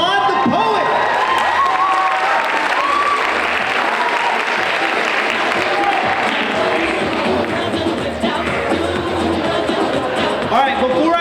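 A high school ninth-grade poetry slam crowd applauds a poet after judges' scores, sustained loud clapping with scattered whoops and voices filling the whole stretch.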